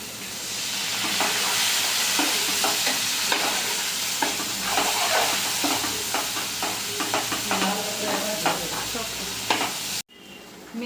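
Spinach and fenugreek leaves sizzle loudly as they fry with spices in a pan, with steady crackling and the scrape of repeated stirring throughout before an abrupt stop near the end.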